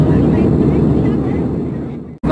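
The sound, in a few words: Air India Airbus A319 cabin noise while cruising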